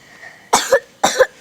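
A person coughs twice in quick succession, close and fairly loud, each cough a sharp burst with a throaty tail, heard alone without talk.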